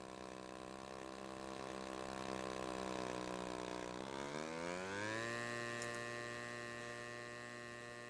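A Corsair warbird making a slow pass in the RealFlight Evolution flight simulator: a steady, droning propeller engine tone that dips in pitch, then climbs and holds higher, with no one talking.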